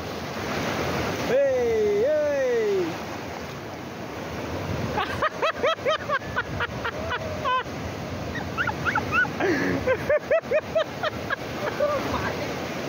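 Large sea waves off the Tarkarli coast near Malvan, heard from a small boat: a steady broadband wash of surf and water rushing throughout, with people talking over it.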